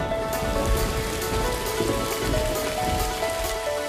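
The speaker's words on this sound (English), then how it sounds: "Oh, it started raining." Rain falls steadily outdoors, a soft, even patter of drops that holds at the same level throughout with no voices.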